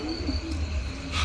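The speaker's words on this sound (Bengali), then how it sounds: "গ্রামে এরকম ঘুটঘুটে অন্ধকারে ঝিঝি পোকার ডাক তোমরা শুনতে পাচ্ছ কিনা।" Crickets chirp in a pitch-dark village at night, a steady near insect trill running continuously through the short stretch with no voices.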